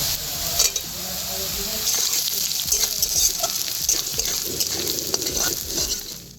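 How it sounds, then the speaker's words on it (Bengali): Chopped ginger frying with lightly browned onions in oil for a small fish curry, a dense steady sizzle with scattered stirring scrapes throughout, loud and close with no talking. "পেঁয়াজের মধ্যে আদা কুচি দিয়ে একটু ভেজে নিয়েছি"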